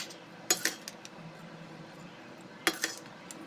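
A spoon clinks twice against the pot while spice powder is mixed into tamarind paste for temple-style puliyodharai, sharp metallic taps separated by quiet stirring.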